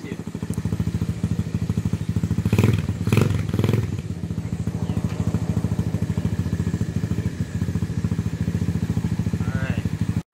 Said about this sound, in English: Choke is off now. It's just idling